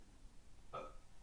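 A single short, fairly faint burp breaks through a quiet room, alone and without any talking.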